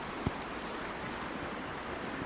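A full, swollen forest river rushes steadily in spring, a broad continuous wash of flowing water close by with no voices.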